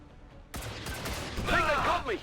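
Gunfire in XCOM 2, a sudden burst of shots followed by crackling impacts and a whooshing sweep, loud and close, with no speech.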